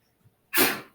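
A single sharp sneeze bursts out after a faint short intake of breath, loud and close, then fades quickly.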